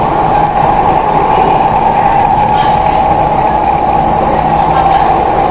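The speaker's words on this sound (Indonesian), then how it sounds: "gesekan antara rel dengan roda sangat bagus sekali" A Jakarta MRT subway train rolls steadily underground, its wheels on the rails giving a loud, continuous rumble with a smooth steady hum and no pauses.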